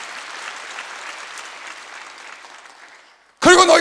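A church congregation at a Wednesday service bursts into loud clapping near the end, following fading talk from a preacher.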